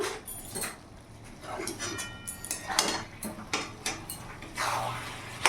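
Chicken is mixed with chicken masala in a pot, with a spoon scraping and knocking against the metal in uneven strokes, close by and moderately loud, without speech.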